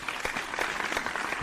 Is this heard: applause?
yes